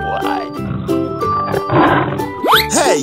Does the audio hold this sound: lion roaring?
yes